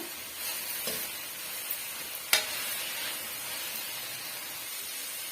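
Chutney ingredients frying in a pan, a steady hissing sizzle with a few scattered stirring scrapes and one sharp clink, no voices present.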